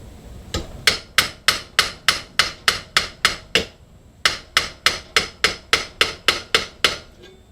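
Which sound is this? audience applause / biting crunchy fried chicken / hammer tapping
hammer tapping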